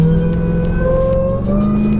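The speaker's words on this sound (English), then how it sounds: "You definitely will know the engine is there. It makes a beautiful sound." A Jeep Gladiator pickup engine revs with a deep, throaty rumble, its pitch dipping and then rising again, loud and close throughout.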